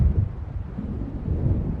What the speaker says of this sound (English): It seems there's a storm.